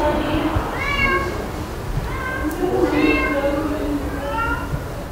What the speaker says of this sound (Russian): а за дверью жалобное кошачье мяуканье